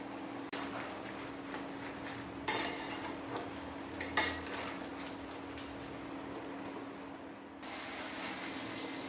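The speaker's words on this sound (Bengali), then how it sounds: "আবার একটু নেড়ে নিলাম" A spoon clinks and scrapes against a cooking pot holding chicken stew with carrots and potatoes. The few knocks are spaced out over a quiet, steady background hiss, with no talking.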